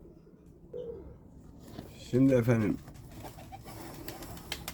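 Pigeons coo nearby on a farm in one short burst of throaty calls, with someone speaking briefly and soft background noise around it.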